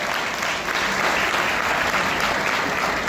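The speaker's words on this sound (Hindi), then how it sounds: "एक बार जोर से तालियां हो जाएं।" A Kargil Vijay Divas audience applauds loudly for a veteran Lieutenant Colonel, a thick, continuous roar of clapping from many hands, even and sustained throughout.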